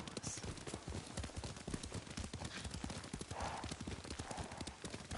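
Horse hooves galloping in the video game Ghost of Tsushima, a fast, steady clip-clop rhythm that stays close and fairly loud throughout the ride.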